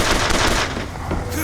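Dense, loud gunfire from the game BioShock Infinite, a continuous rapid burst of shots filling the clip with heavy battle noise.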